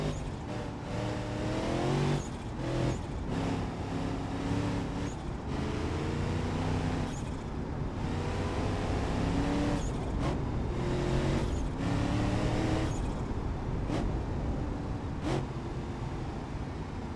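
A turbocharged Rotsun car in BeamNG.drive revs hard through corners, the engine climbing and dropping repeatedly with sharp gear changes and a loud, continuous, close-up roar.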